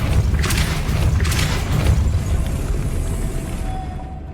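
A Depulso force spell cast in the video game Hogwarts Legacy, heard as a dense rumbling boom with crackling bursts that swell twice and then fade into a steady low hum with a thin whine.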